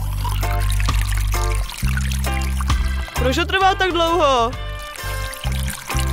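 Orange Fanta poured from a tap fitted to a can into a glass, a bright gurgling trickle with rising pitch as it fills, heard under a person's talking.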